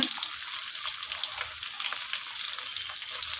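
Slit green chillies fry in hot oil for a Kerala-style fish curry, giving a dense, continuous close sizzle with light crackling that holds steady throughout.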